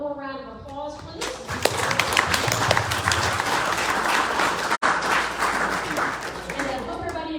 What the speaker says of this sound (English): I'd like to give our speakers one more round of applause, please.